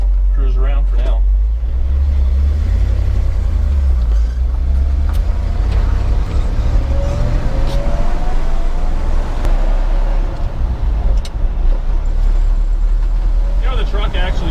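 A 1975 Ford F-100 Ranger 4x4 pickup cruising, its engine a loud, steady low rumble with shifting revs and road noise, under someone talking close by.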